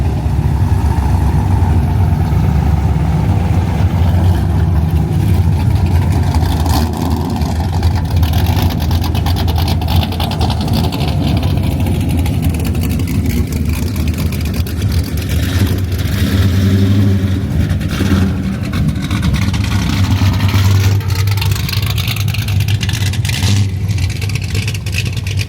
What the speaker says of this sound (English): They have a live band and there's cars pulling in and out all throughout the day. Got some going right now.